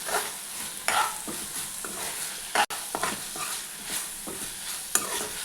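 Dry fish masala being stirred in a pan, a steady scraping stir over a continuous loud sizzle with repeated spoon strokes, close up and without talk.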